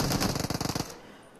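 Rapid automatic gunfire in a battle royale video game rattles in a loud, fast burst of about a dozen shots, then cuts off into quiet.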